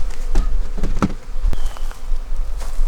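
Honeybees buzzing around a hive during a fall bee barn inspection, with several close individual bees passing by in brief drones over a steady faint hum of the colony.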